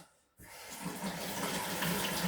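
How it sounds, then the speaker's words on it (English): Hot water from a kitchen tap rushes into a sink after a brief quiet start, a steady close splashing stream that runs on without pause. "Get that hot water turned back on."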